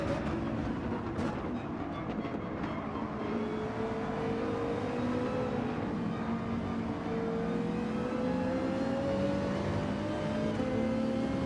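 Ferrari GR3 race car engine in Gran Turismo 7 at Spa, a steady, loud drone with rising harmonic pitch as it accelerates through gears, continuous without talk.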